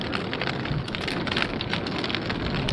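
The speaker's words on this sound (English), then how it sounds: "now the wind picked up" Strong wind gusting across a farm, buffeting the microphone with a steady, loud, broadband rush that persists for the whole stretch with no voices.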